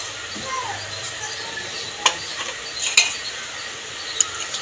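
Spice paste with sugar and ground garam masala is stirred in a pan for Bengali ol chingri dalna, with a soft sizzle and a few sharp utensil clinks against the metal, close, over faint background noise.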